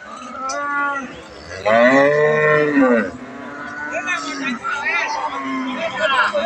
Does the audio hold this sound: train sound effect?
no